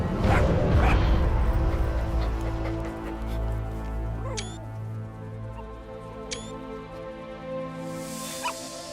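Small yips and barks from the puppy D-Dog in Metal Gear Solid V, a few short bursts over a steady low game ambience, with brief bird-like chirps scattered throughout.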